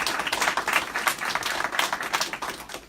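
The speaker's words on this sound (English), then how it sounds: "So big round of applause for the" A community gathering for a new grocery store opening breaks into applause, a moderate wash of many hands clapping for a few seconds.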